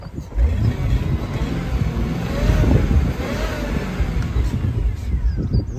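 A 2002 Jaguar XKR convertible's engine revs up and rises in pitch, then holds a loud, throaty note close by for several seconds.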